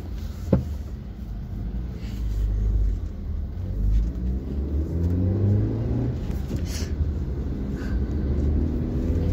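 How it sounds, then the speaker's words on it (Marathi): Vehicle engines idle and rev in a jammed Pune city street, a low continuous rumble with passing cars and occasional higher whines, fairly close and steady. "ट्रॅफिक खूपच जाम लागलेला आहे."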